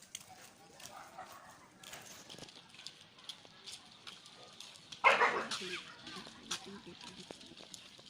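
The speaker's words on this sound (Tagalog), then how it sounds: "Aso ang laki." A dog gives a short bark midway through, fairly distant, amid quiet background noise and faint rustling.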